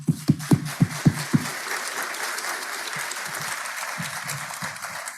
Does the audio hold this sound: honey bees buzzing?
no